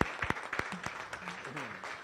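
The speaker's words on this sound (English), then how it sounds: "I would like a round of applause to these amazing" Brief applause at a Las Vegas Rotary Club weekly meeting, a short burst of scattered claps from the room with a voice or two murmuring underneath.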